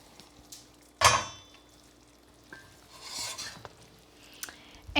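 Soup pot lifted off a stove, with one sharp metallic clank of the pot on the stovetop, then quieter scraping and shuffling, softer clatter, and a few small knocks near the end.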